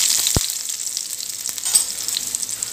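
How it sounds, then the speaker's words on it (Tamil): Two small chopped onions frying in hot oil in a pan, a steady close hiss and crackle with a sharp tap near the start. "வெங்காயம் இப்போ நல்லா ஃப்ரை ஆகி ப்ரௌன் கலரில் மாறி வரணுங்க"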